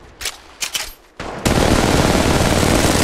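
Gunfire in the mobile game Apex Legends Mobile: a few sharp shots, then a loud, dense continuous burst of automatic fire.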